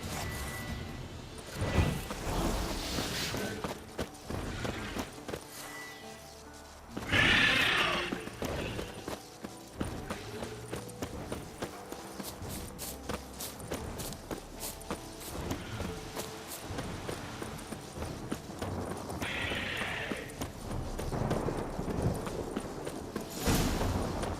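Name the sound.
horse neighing and hooves in Witcher 3 video game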